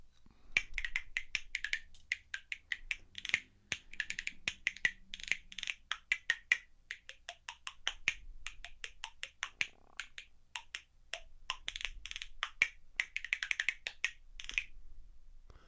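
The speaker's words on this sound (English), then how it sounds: "advanced is the cooking spoons. And they have a better sound. They have a much louder sound, but they're harder to play." Cooking spoons played as a percussion instrument, producing a steady stream of sharp, dry clicking strikes in quick rhythmic patterns, loud and close with no voices.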